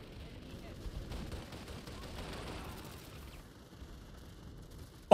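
Gunfire in the Planetside 2 video game, a steady spray of shots crackling at mid distance throughout, with a voice talking over parts of it.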